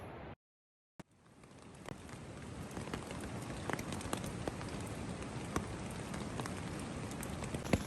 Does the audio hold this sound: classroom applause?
no